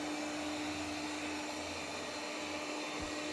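A Yeedi M12 Pro Plus robot vacuum runs indoors, giving a steady, even whirring hiss with a low hum underneath. It sounds moderately distant, continuous and without speech.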